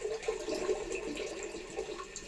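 Water running steadily from a bathroom sink tap, a continuous close splashing rush with no voices, heard while waiting for the water to warm during shaving.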